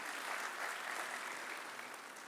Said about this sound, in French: Je voulais les remercier et vous demande de les applaudir à ces PME.